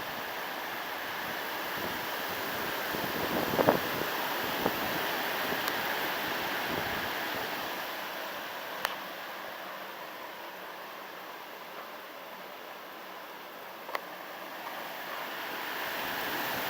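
Hurricane wind blows as a continuous, loud broadband rush for a long stretch, swelling and easing slightly, with occasional sharp knocks, and no speech.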